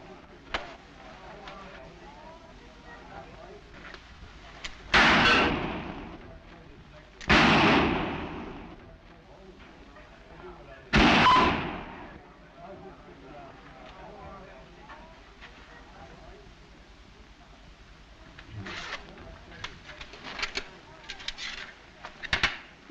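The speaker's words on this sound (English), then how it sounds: "Nice shooting, stranger." Three loud gunshots ring out in a Three Stooges comedy film, spaced a few seconds apart over a quiet background, with people talking before them and a scatter of lighter sharp cracks toward the end.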